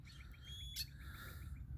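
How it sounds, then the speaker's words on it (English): A red-winged blackbird calls close by outdoors, a trilling chirp sequence with repeated notes and a sharper burst, heard clearly over a steady low background rumble. "A red-winged blackbird back here."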